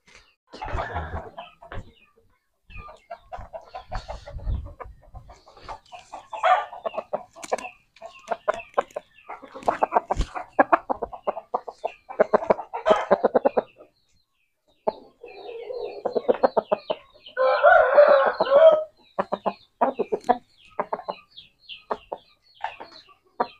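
A chicken, a gamecock being held while its spur is wrapped with rubber bands, clucks and squawks repeatedly in short bursts close by, with sharper agitated calls toward the end and no talk.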